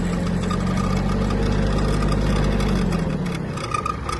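A small Hinomoto CX-19 mini tractor engine runs at a steady loud chug while reversing, its low drone dropping slightly in pitch toward the end as it moves.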